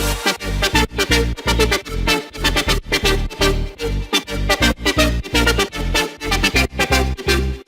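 Electronic dance remix drop of a pop song with Fuji Bounce presets: loud, dense pumping synth chords over a punchy kick, with rhythmic gaps between hits.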